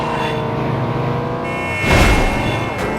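Racing car engines from the 2003 video game Midnight Club 2 give a steady droning hum with tonal whine, swelling into a louder passing rush near the end.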